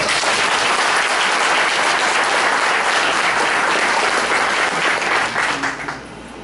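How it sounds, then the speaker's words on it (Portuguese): A lecture audience gives dense, loud applause that holds steady and then drops off quickly near the end. "Aplausos pra eles aí."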